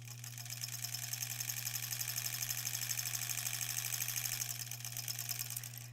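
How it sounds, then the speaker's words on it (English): A sewing machine stitches together quilt scraps for improv-pieced granny squares. It runs in a steady, close mechanical whir with a low motor hum and a rapid rhythmic needle patter throughout. "then we can sew that piece that I just have on the machine"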